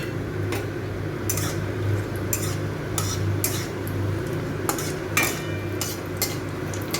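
Whole cinnamon, star anise, bay leaf, cardamom and cloves sizzling faintly in a pan while a metal spoon scrapes and clinks against it in irregular strokes, close up under a low steady hum.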